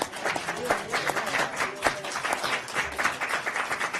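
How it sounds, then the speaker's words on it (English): A crowd at a State Department press briefing applauding loudly and continuously, dense clapping filling the whole stretch with voices mixed in. "let's applaud"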